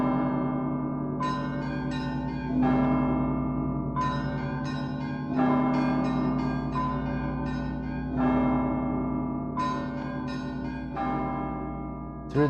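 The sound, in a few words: great Rostov church bells ringing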